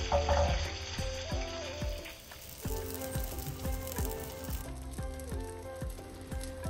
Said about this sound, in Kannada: ಕರಿಬೇವಿನ ಸೊಪ್ಪು, ಸಾಸಿವೆ, ಇಂಗು, ಸ್ವಲ್ಪ ಬೆಳ್ಳುಳ್ಳಿ, ಇಷ್ಟನ್ನು ನಾನು ಒಗ್ಗರಣೆಗೆ ಇಲ್ಲಿ ಹಾಕಿದ್ದೀನಿ